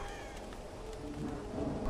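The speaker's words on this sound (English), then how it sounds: "What's that sound? Oh, that was, birds?" Birds calling over a steady windy background hiss in the video game Tomb Raider (2013), with a few harsh caw-like cries rising near the end.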